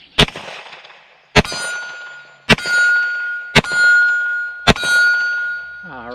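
Five sharp rifle shots from a Bear Creek Arsenal BC-102 Grizzly, spaced about a second apart, each followed by a bright metallic ring as rounds strike a small steel silhouette target at the range.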